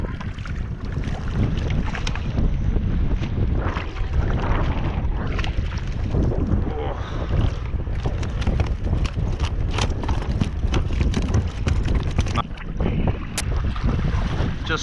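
Strong gusty wind buffets the microphone while kayaking along a coastline, a loud continuous roar with rumbling low-end blasts and some splashing water, and no voices.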